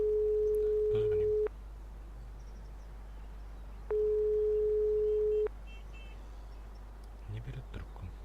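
Unanswered phone ringing in the game Broken Sword 5, two long steady electronic ring tones separated by a pause, each lasting about a second and a half, with faint sounds between.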